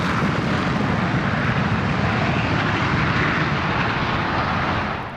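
Fighter jets, a JF-17 Thunder and an F-16, taking off at an air display, a loud sustained broadband engine roar that holds steady throughout and fades slightly at the end.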